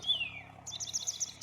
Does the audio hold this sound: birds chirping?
yes